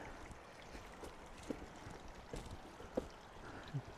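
A small spring trickles along an old eroded road, a faint, soft gurgle of flowing water with occasional brief splashes and drips, heard close but quiet against the outdoor background.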